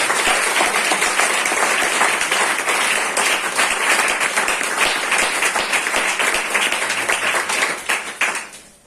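A church congregation applauding together, steady dense clapping that holds loud for about eight seconds before fading quickly to an end.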